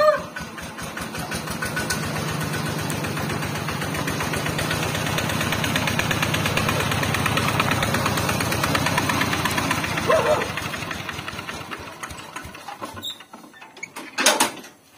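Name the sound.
old truck engine running smoothly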